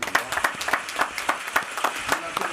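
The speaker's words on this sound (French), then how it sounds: "Acclamation pour toi" Studio audience clapping greets a producer on a television set, a sparse, uneven run of distinct hand claps close by, with some speech mixed in.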